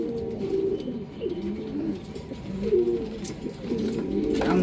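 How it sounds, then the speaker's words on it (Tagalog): A young racing pigeon coos close by in soft, repeated, throaty calls, low and continuous over faint background noise. "Young bird."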